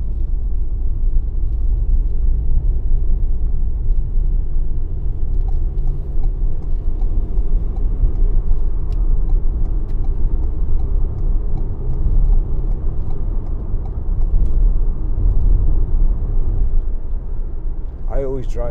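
Cabin of a 2018 Ford Transit Custom 300 2.0 EcoBlue Limited van on the move, with a steady low engine and road rumble filling the whole stretch and a person talking over it.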